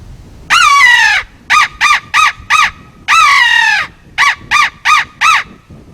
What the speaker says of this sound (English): you have a crow call to locate a turkey.